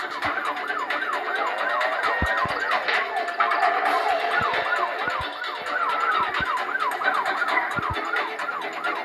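A special operations vehicle siren in a video game wails loudly and continuously, its rising and falling tone sweeping over and over close by, with engine noise beneath and no talking.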